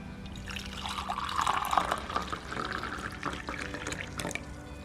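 Freshly made lemon verbena tea being poured, a quiet trickling and splashing of liquid filling a cup, steady with a few drips near the end.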